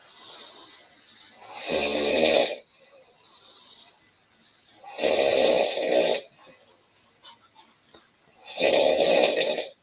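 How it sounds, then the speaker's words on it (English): A woman snores in three loud, raspy, drawn-out inhalations spaced about three seconds apart, close and rattling, with quiet breathing between them. "This is the one who's snoring"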